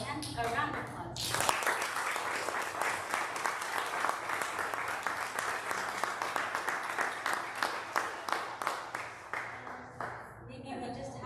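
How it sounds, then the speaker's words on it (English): An audience claps steadily for several seconds, a dense wash of applause that tapers off near the end. "And a round of applause."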